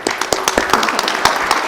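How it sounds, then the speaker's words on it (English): An audience at a woodturning ring-turning demonstration in a wood shop gives a brief round of applause, a burst of overlapping claps close by that fades quickly. "So please give him a round of applause."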